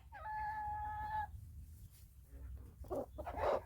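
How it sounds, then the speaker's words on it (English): A rooster crows once at moderate distance, followed by soft clucking and faint rustling in a quiet homestead yard. "Look at these chickens"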